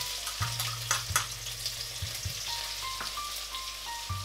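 Onion, garlic and cumin fry in a pan for an okra dish, a soft continuous sizzle with clinks and scrapes of stirring and a faint background hum, with no talking.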